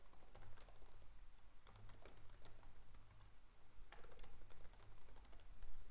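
Quiet, rapid clicking of keys on a computer keyboard, an irregular stream of soft taps with short pauses, close and faint, with no voice over it.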